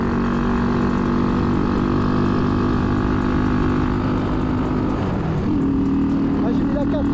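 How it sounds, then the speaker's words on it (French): A running MBK Masai 50 Black Road moped engine, misfiring and unable to burn its fuel, drones steadily and loudly as the throttle is worked, its pitch dipping and rising near the end. "Là, quand je vais mettre les gaz, je l'entends. En fait, elle n'arrive pas à brûler l'essence."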